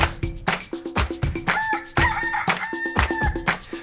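A rooster crows and chickens cluck loudly over a steady rhythmic beat of sharp clapping hits, repeating through a music lesson track.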